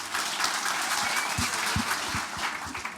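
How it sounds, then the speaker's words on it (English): A live crowd at a Dublin fan event applauds footballer Liam Scales, a dense, steady wash of clapping close by that holds at full strength for about three seconds, with a few low thumps underneath. "Please give a big round of applause for Liam Scales."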